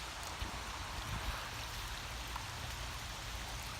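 Rain falls steadily during outdoor gold panning, an even hiss of drops spread across the whole scene with no breaks and no voices.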